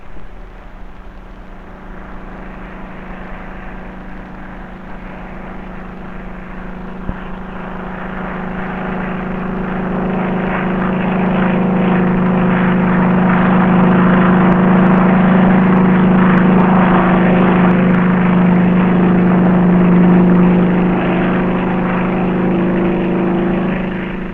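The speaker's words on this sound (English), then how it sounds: "And back goes the chopper for yet another one." A navy helicopter ferrying cattle off the aircraft carrier HMS Victorious during the 1960-61 Far East commission, its steady rotor and engine drone building louder mid-clip with a sustained low hum, alone without talk.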